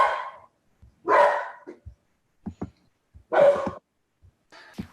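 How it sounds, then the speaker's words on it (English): A presenter's own dogs bark at home in bursts during an online meetup, with two loud barks and scattered shorter yaps and sniffs between them, close to the microphone. "The barking dogs from the presenter?"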